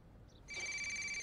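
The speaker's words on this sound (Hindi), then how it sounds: "ये टेलीफोन, तुम्हारा बेल बज रही है।" A telephone bell starts ringing partway through, a steady bright electronic trill that holds at close range and moderate volume after a moment of near silence.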